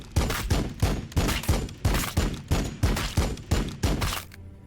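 Gunfire in Warhammer 40K: Battlesector: about a dozen loud, evenly spaced booming shots in a steady rhythm, each with a short decay, ending abruptly before a quiet tail.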